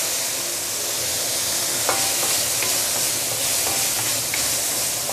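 Roast pork with basil and Shaoxing wine stir-fries in a wok with a loud, steady sizzle and hiss, punctuated by a few sharp spatula clinks and scrapes.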